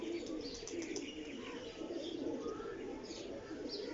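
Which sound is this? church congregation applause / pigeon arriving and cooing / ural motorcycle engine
pigeon arriving and cooing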